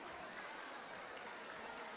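Audience applause at a twenty-fifth anniversary event honouring Don Gianni Branco, a dense, steady patter of clapping filling the room from start to finish without pause.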